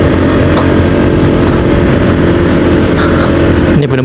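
A vehicle climbs a steep hill at Malasari tourist village near Bogor. Its engine roars loud and steady throughout, with a low, strained drone that holds under the gas before dipping briefly at the very end.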